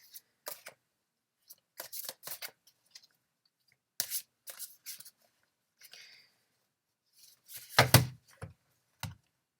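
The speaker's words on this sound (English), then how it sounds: "I'm really struggling to shuffle these cards today" A deck of cards being shuffled up close in a quiet room, in short irregular bursts of riffling and tapping separated by silences, with a heavier thump near the end.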